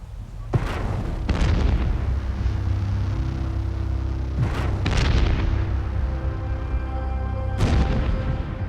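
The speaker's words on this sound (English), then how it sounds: "Firing the charge!" A gunpowder charge set off with wires across a battery gives several loud, deep booms outdoors, at about half a second, four and a half to five seconds, and seven and a half seconds, each with a rumbling tail over a steady low background.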